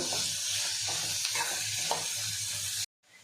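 Three onions frying in oil in a pan, a steady close sizzle with a few faint stirring scrapes, cut off abruptly near the end.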